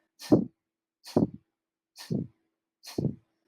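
Four slow, forceful exhales of skull shining breath (kapalabhati) yoga breathing, evenly spaced about a second apart, each a breathy whoosh of air with a soft rushing tail, close and alone.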